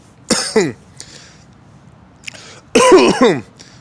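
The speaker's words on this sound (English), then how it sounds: "got that little cough there" Two loud, close coughs, the second longer and harsher, separated by a brief quiet stretch with a faint throat sound.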